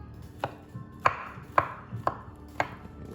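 Five sharp knife chops through portobello mushrooms on a cutting board, evenly spaced about half a second apart, close and crisp with quiet between strikes.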